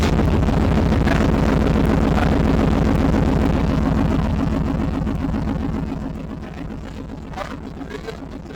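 A Gen 1 Yamaha Virago motorcycle fitted with a voltage stabilizer, slightly flooded from earlier cranking, runs close by with a steady throbbing engine note that eases off in the final seconds amid some wind noise.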